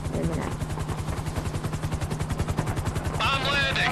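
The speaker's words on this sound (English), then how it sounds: "we are going to drive this chopper into our tank" Helicopter rotor chopping in GTA Online, a steady rapid low thumping that runs throughout, with bursts of gunfire mixed in and a rising whine near the end.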